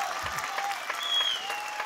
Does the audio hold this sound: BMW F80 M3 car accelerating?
no